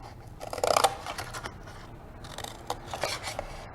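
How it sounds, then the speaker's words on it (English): Scissors snipping through paper while cutting out a Minecraft sword craft shape, a few close, crisp cutting crunches followed by softer scraping and rustling of the paper. "you're gonna use the scissors carefully and just cut"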